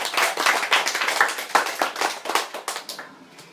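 A school debate audience claps to welcome a judge, a burst of many hands clapping in quick, uneven rhythm that gradually thins and fades toward the end.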